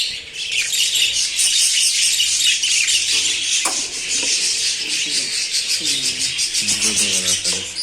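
Budgerigars, including mutation-colour birds, chirp and twitter in a dense, continuous chorus at a breeder's aviary, with a faint voice briefly audible under the flock near the end.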